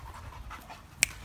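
A dog pants in quick, soft breaths close by, with a faint sharp click near the end and no talking.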